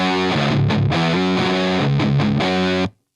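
Overdriven electric guitar through a Drunk Beaver Bat Cold War RAT-style distortion pedal set to its East op amp, loud, thick chords strummed in short rhythmic bursts alone, then cut off abruptly into silence.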